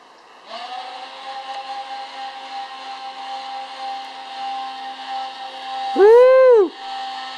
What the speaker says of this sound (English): we've got the two propellers as well as the electronic control unit, Seb's home-crafted boat out of foam